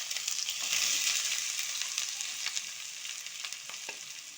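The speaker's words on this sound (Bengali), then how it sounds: "এবারে হলুদটা আমি খুব ভালো করে ভেজে নেব" Grated raw turmeric fries in mustard oil for a pickle, giving a bright, steady sizzle that crackles up near the start and eases slightly toward the end, with no voices.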